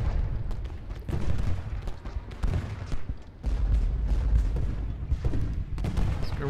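Artillery and gunfire in a Gettysburg Civil War battle in the strategy game Ultimate General: dense, continuous booming volleys and crackling shots layered together, loud and rumbling throughout.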